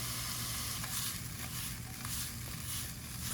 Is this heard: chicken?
no